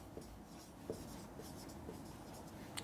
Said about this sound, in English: So let me write the function properly.